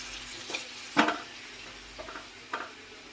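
Tomatoes frying in a pan with coriander, garlic and chillies, stirred with a utensil; a soft sizzle runs under a few scraping clinks against the pan, quiet and close.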